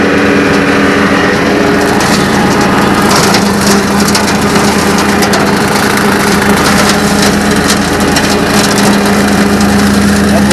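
A John Deere 4044M tractor bush hogs palmettos, brush and saplings, its engine droning loudly and continuously beneath dense cracking and crushing of wood and vegetation.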